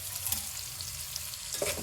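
Onions deep frying in hot oil with a steady, close sizzle and occasional stirring scrapes that run throughout without pause.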